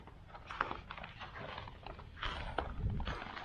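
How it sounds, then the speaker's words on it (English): Footsteps crunch through fresh snow outdoors during a freak snowstorm, a steady faint rhythm of soft crunches under low broadband wind noise. "fresh snow. Listen to the crunch."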